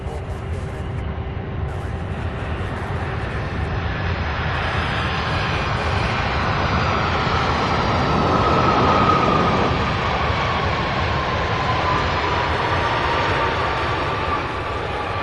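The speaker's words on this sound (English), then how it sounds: "Beautiful landing by the 767." A Boeing 767 lands at night at UPS Worldport, Louisville (SDF): a steady, loud jet roar that swells toward the middle and then eases into a sustained engine rumble with a whining tone.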